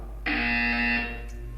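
A loud, steady electronic buzzer from the video game Portal 2 sounds for about a second, then cuts off, leaving a low hum behind.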